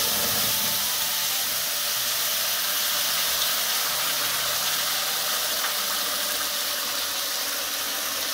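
Green chili, onion and garlic paste hits a little hot oil in a pan and sizzles with a steady, dense hiss that stays close and constant throughout.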